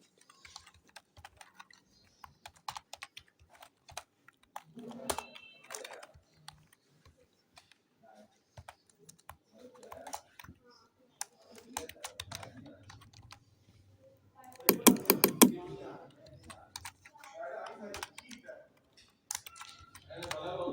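Someone types data into a spreadsheet on a computer keyboard, quiet irregular keystrokes in short runs separated by pauses, with a denser flurry of clicks near the middle.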